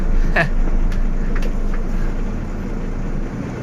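A heavy dump truck engine rumbles low and steady nearby, with a few faint clanks and squeaks over the drone.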